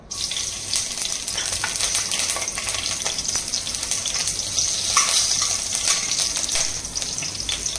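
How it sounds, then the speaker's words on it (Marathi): Green chillies fry in ghee in a kadhai with a loud, steady, close sizzle that crackles continuously and swells slightly midway, with no talking over it. "आपण कढईमध्ये 2 चमचे तूप घातलेले आहे। आता आपण त्यामध्ये टाकणार आहे हिरवी मिरची"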